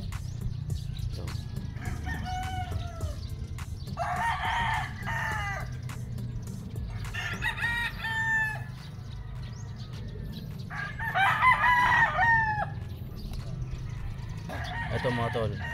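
Gamefowl roosters, including brown red crosses, crowing at a gamefarm, several long crows from different birds spaced across the clip over a low steady rumble of background noise, with someone talking faintly underneath.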